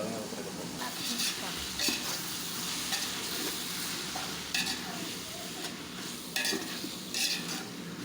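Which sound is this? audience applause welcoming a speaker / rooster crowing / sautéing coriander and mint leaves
sautéing coriander and mint leaves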